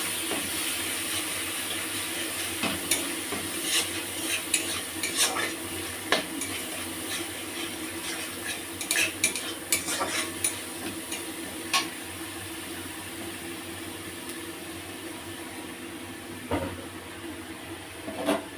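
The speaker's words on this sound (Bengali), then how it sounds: "ভালো করে মশলাটা একটু আমি কষে নিলাম।" Spice paste with salt being sautéed and stirred in a pan, with a steady low sizzle and scattered scraping clicks of the spoon throughout. No one speaks.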